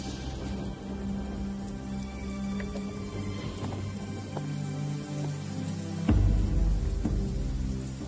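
Steady rain pours down through a Telugu film scene, a dense hiss under a sustained musical score that swells louder near the end, with no voices.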